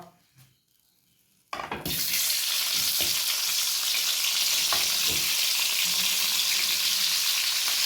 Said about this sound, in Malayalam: നമുക്ക് ഈ തക്കാളി, ഉള്ളി, പച്ചമുളക് ഇതൊന്ന് വാട്ടിയെടുക്കുക കേട്ടോ.